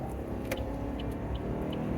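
Cabin interior of a 2021 Chevrolet Silverado Custom pickup while accelerating onto a small road, with a steady low engine and road rumble and faint higher ticks and clicks inside the truck.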